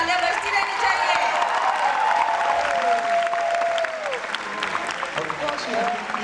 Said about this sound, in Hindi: so please तालियां बजती रहनी चाहिए.